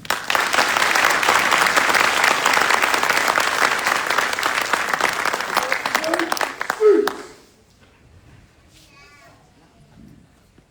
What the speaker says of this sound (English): Please join me in a round of applause for the winning squad of the Drill and Ceremony Competition.